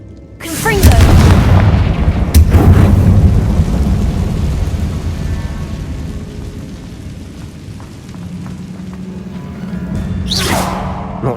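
A Confringo fire spell explodes in Hogwarts Legacy, a loud booming blast with a rumbling tail, then a second burst shortly after and another near the end, with a voice speaking.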